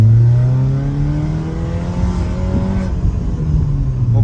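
A BMW 318ci E46 with a stage 1 tune and full exhaust revs loudly near the microphone, its engine note holding a steady high drone with layered harmonics that dips slightly then climbs again, no voices present.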